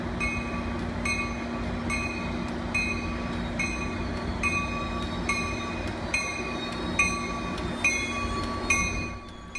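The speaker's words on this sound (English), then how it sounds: "We're trackside downtown as a southbound coaster commuter train rolls in." A southbound Coaster commuter train rolls into a downtown San Diego station, with close, rhythmic wheel clicks over rail joints repeating about every second beneath a steady rumble and a faint whining tone.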